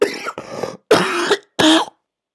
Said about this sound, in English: I was having a coughing fit there